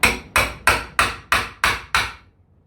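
Seven sharp, evenly spaced metal strikes as a hammer drives a cat's paw nail puller, one edge curved and one straight, down onto a nail during demolition of a non-load bearing wall; loud, close and alone, with a brief ring after each blow.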